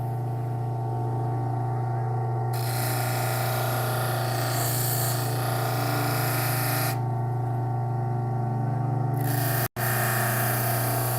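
Work Sharp powered sharpener drones steadily with a motor hum while polishing the bevel of a pocket knife, the grinding texture shifting in intensity as the blade is worked, with one brief cutout near the end and no talk.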